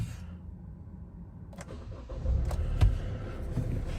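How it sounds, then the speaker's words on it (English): 2012 Kia Soul 1.6 CRDI diesel automatic cranks and fires on its first cold start of the day, the engine catching after a brief starter whirr and settling into a close, steady idle. "let's just start the car up so you can see there are no warning lights,"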